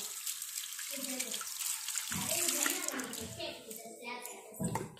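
Running water from a tap splashes over hands as soil is washed off outdoors, with a child and an adult talking over the close, steady flow.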